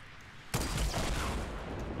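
A sharp sniper shot in Fortnite Battle Royale, with a sudden loud crack after a quiet start that gives way to a rumbling, echoing tail lasting over a second.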